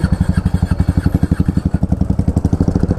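A motorbike engine that keeps cutting out and overheating, on a road to the Hemis Tsechu festival in 2024, chugs in steady, rapid, close-up pulses for the full few seconds without dying away.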